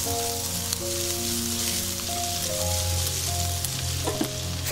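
Minced garlic and chili sizzle in hot oil in a wok, a steady close crackling fry with a few light clicks of stirring toward the end and a faint hum beneath, no talking.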